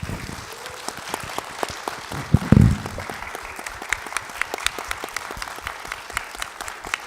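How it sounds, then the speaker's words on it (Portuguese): Light, scattered clapping from a small audience, with steady irregular claps that swell briefly in the middle and carry on throughout. "Juca Martins, Ian Boechat, palmas."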